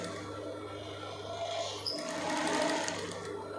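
A sewing machine stitching a blouse, a close, continuous mechanical whir that swells slightly near the end, heard alone without talk.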